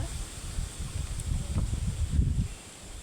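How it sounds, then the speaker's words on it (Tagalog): Strong wind blowing outdoors, buffeting the microphone with a steady low rumble that swells in gusts, with no one speaking. "lakas ng hangin"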